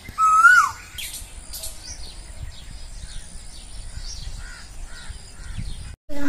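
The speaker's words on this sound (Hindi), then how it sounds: "कोयल की आवाज़ आ रही है।" An Asian koel calls outdoors near a home garden with lemon trees, a clear rising note up front, followed by a scatter of fainter bird chirps and calls over a quiet background.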